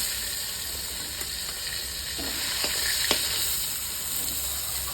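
Pieces of rui fish fry in hot oil with a dense, continuous crackling sizzle, steady and close, a few faint clicks of utensils mixed in; no one speaks.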